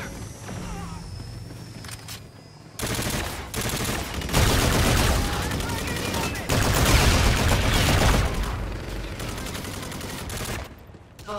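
Dense automatic gunfire in Call of Duty Infinite Warfare, with AK47 bursts in a multiplayer match; rapid sustained volleys build loud and continuous over several seconds, while a radio voice calls out over the shooting.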